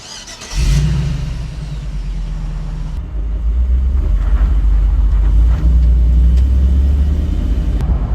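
A Toyota Land Cruiser with a 4L60 transmission is fired up and driven, its engine rumbling loud and close throughout with steady revving and a few shifts in pitch.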